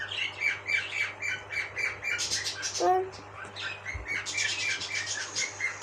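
A pet parrot squawks and chirps indoors in a steady run of sharp, repeated calls, fairly close, with a brief lower squeal partway through and some background noise.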